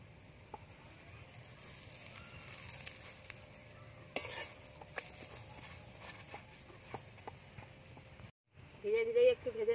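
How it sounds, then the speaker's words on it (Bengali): Paratha layered with spinach and coriander fries in mustard oil with a quiet, steady sizzle broken by scattered taps and clicks of turning, then a short gap before louder handling noise and a brief voice at the end. "প্রথমে আমি তেল দিয়ে ভেজে নেব,"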